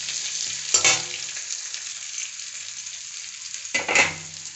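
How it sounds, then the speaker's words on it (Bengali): Chopped onion fries in a pan for a meat ghugni, a steady sizzle with two louder bursts of stirring or scraping, close up and with no talk. "পেঁয়াজটা আমার ভাজা হয়ে গেছে।"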